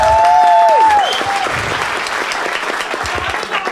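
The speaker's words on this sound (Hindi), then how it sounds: "एक बार ताली बजा दो भाई के लिए।" A stand-up comedy audience applauds loudly and steadily in a dense wash of clapping, with a brief high whistle-like tone near the start that fades as the clapping continues.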